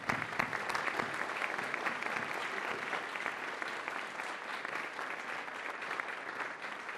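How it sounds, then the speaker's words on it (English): School concert audience giving the parents a round of applause, even, continuous clapping of moderate loudness that holds steady from start to finish. "I think we owe our parents a round of applause for all of their support."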